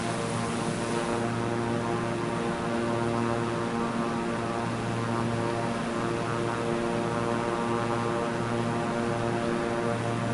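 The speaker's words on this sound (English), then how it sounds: "Here's our lovely Beechcraft." Beechcraft propeller plane in Microsoft Flight Simulator 2024 on PS5, a steady loud engine drone with a low propeller hum that holds without a break, with no voices over it.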